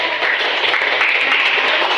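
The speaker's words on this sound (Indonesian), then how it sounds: "tepuk tangan untuk kelompok 1" A classroom group applauds a student team (group 1) after a news-text presentation in an Indonesian teacher-training lesson: steady, dense clapping from many hands, fairly close and even throughout, with no talk over it.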